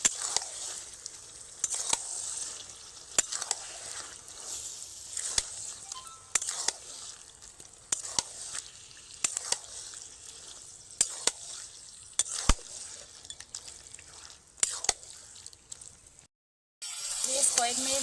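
Taro greens are stirred often in a pan over medium heat: scraping strokes about every second and a half over a soft sizzle, then a brief silence near the end.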